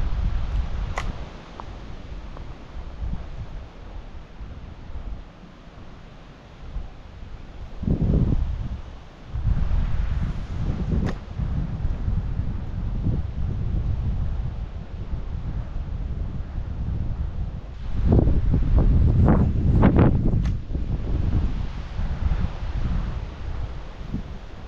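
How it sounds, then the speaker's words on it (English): Steady wind buffets the microphone beside the water during crappie fishing near a tree in rain, with a low rumbling roar that swells in stronger gusts around the middle and near the end. "it's a little bit windier down here than I thought it would be"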